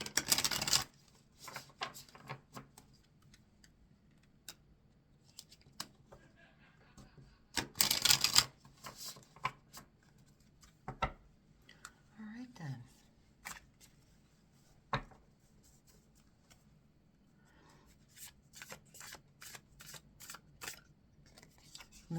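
Oracle cards are shuffled in short, crisp bursts of riffling and snapping, separated by quiet pauses and light tapping.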